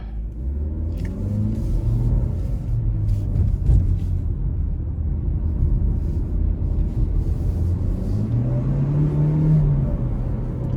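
A 2022 GMC Terrain SLT with the 1.5-litre turbo engine accelerates in all-wheel drive, heard from inside as a steady low rumble with engine tones climbing and shifting over road noise.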